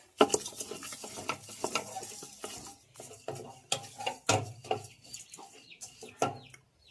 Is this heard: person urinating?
no